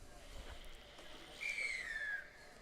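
At a rugby match between New Brunswick and PEI at the Atlantic Rugby Championships, a referee's whistle gives one drawn-out, slightly falling blast, faint and distant over quiet field ambience.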